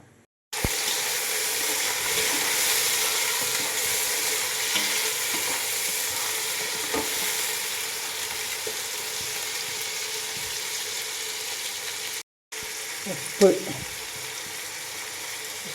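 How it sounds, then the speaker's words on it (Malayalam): Chopped green chilli, tomato and onion going into hot sunflower oil, a steady, soft sizzle and crackle at close range, briefly broken by a short pause and a light clatter near the end. "കട്ട് ചെയ്ത് വെച്ച പച്ചമുളക് തക്കാളി ഉള്ളി ഈ ചൂടായ എണ്ണയിലേക്ക്"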